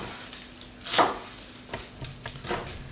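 Fresh parsley is chopped with a knife on a cutting board in a kitchen, a few soft close cuts with one louder knock, alone without talk.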